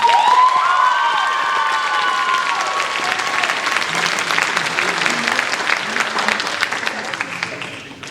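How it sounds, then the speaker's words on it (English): Audience applause fills a school spring band concert as a sousaphone player is introduced, dense clapping mixed with a few cheers and whistles, loud and steady before tapering off near the end. "Please give her a round of applause."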